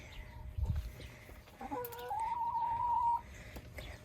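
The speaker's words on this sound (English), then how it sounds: "Chickens? Hey, chickens! Come here, chicky." Chickens cluck softly nearby, and one hen lets out a longer drawn-out call in the middle; no one speaks.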